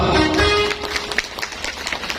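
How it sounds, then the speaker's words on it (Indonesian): A village crowd claps for the village head, a loose patter of hands that comes in as a tonal sound fades and then continues with uneven, scattered claps at fair loudness. "Tepuk tangan buat Pak Lurah"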